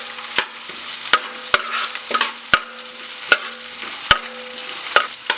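Ginger, garlic and green chilli fry for a Malabar mutton curry, a steady sizzle with sharp spoon scrapes and taps against the pan about once a second, close and fairly loud, no voices.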